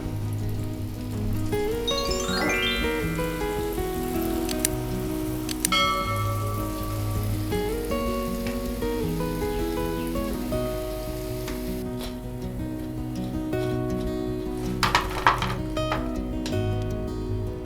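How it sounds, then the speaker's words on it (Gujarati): Mysore bonda deep-frying in hot oil give a continuous bubbling sizzle, like rain on a surface, under tonal background music, with a brief clatter near the end. "આ રીતે હવે આપણે બીજા બધા બોન્ડા પણ ફ્રાય કરી લઈએ"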